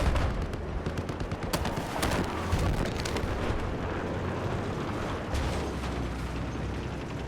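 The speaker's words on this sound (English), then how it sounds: "Big Boss is going to be moving in the tank here." A tank rumbles and clanks through a large multiplayer video game battle, with a dense, loud mix of engine noise, mechanical grinding and gunfire that never lets up.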